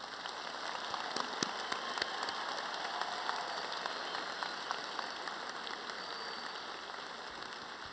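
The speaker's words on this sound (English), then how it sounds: "let's warm up by giving our graduates a round of applause" A large audience applauds graduates at an engineering college commencement ceremony, a sustained even patter of many hands clapping in a big hall, moderately distant with a few sharper claps standing out.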